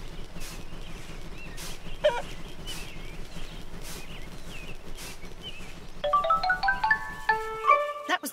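Cartoon chickens in a Peppa Pig video game give a short clucking call over steady background music, then a bright chime-like jingle rises near the end as a level wraps up.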